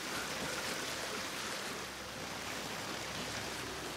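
A waterfall in the Gears 5 Hivebusters video game gives a steady, broad rushing roar of falling water, constant and fairly loud throughout with no voices.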